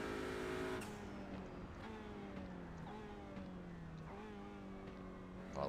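Onboard an Audi RS3 LMS TCR race car, the engine pulls through repeated rising runs with upshifts, a faint turbo whine riding above the drone.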